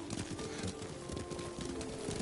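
A horse's hooves clip-clop at a steady gait while being ridden in the samurai video game Ghost of Tsushima, rhythmic and fairly close, faint, with birdsong and ambient outdoor sounds around.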